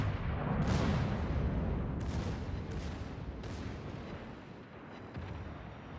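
Naval artillery fire from World of Warships: a continuous broad roar of heavy gunfire with several sharp blasts at steady intervals, loud and close, with no voices.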